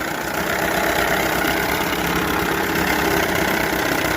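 A 1978 Johnson 6 hp outboard motor fitted with the wrong spark plugs runs steadily and loudly up close, a continuous buzzing drone with a fine rapid pulse throughout.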